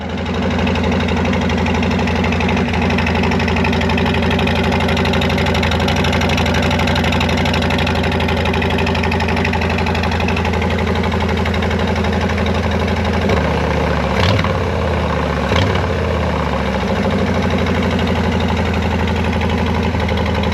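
A 2024 Harley-Davidson Fat Boy idles with a Tab Performance slip-on exhaust, a loud, steady low rumble with an uneven lumpy pulse, close by, with a couple of short blips partway through.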